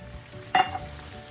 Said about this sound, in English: Stir that into my sausage.